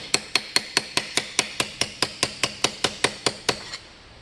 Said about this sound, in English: you can hammer the flat down just a bit